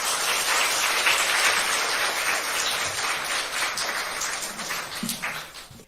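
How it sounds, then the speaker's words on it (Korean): A church audience applauds steadily to encourage someone speaker. The dense, continuous clapping fades slightly toward the end, with no talk over it. "박수로 격려해 주시기 바랍니다"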